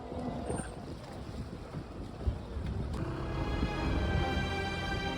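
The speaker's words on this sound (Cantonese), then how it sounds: "呢啲細細隻船呢係的士嚟㗎。" Small water taxi boats in Venice, heard on the water as a soft low motor hum with wind buffeting the microphone and faint lapping water, fairly quiet and without talk.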